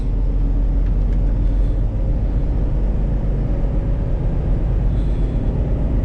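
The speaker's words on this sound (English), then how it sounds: "these tires make a little bit of noise" Tire road noise inside a moving 2000 Ford Excursion 4x4 Limited V10 SUV, a steady loud low rumble and drone throughout with no voices.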